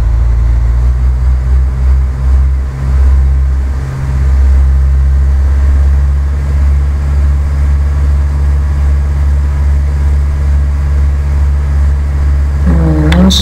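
A Cessna 172's engine drones loudly and steadily from inside the cockpit, with a low, constant propeller hum and a shift in pitch near the end.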